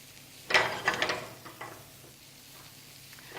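Sautéed potatoes and beans are stirred with melting cheese in a hot pan, a short burst of spoon scrapes and clinks against the pan, then quieter scraping fading out.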